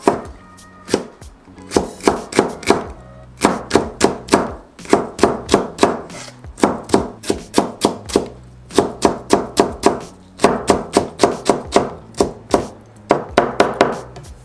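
Rapid bursts of a knife chopping food on a board while making eggplant rolls, in quick rhythmic runs separated by short pauses, close and crisp.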